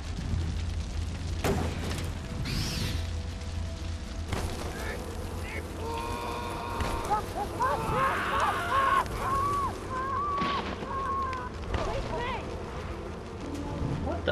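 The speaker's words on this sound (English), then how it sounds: "Just keep bombing that one with fire." Fire bombs thrown at a bonfire in Far Cry Primal, several muffled booms and crackling bursts with roaring flames and wind, mixed with creature calls and game ambience, moderately loud.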